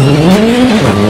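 A rally car on the streets of Punta del Este, Argentina, roars loud and close, its engine note climbing and dipping through acceleration, braking and cornering, with a tire squeal mixed into the continuous racing drone.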